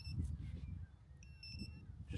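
A carp fishing bite alarm in Essex, UK, tested after a sensitivity change, gives several faint high-pitched electronic beeps over a low background rumble.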